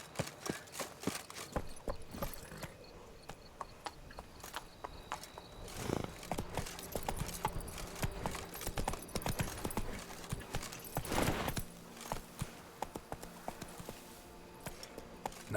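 Hooves of Roach, a horse in a video game, clip-clop quickly across the ground at a steady gallop, with a brief whinny near the middle. The sound is moderately close and a little muffled, and no one speaks.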